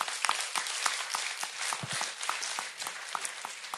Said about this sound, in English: I would like us to appreciate Shalina by giving them a thunderous round